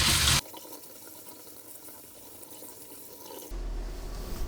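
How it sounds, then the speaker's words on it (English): Water runs from a tap as sushi rice is rinsed, a soft steady trickle and splash that starts and stops in short bursts, close by with no talking. "rinse it thoroughly until the water runs clean"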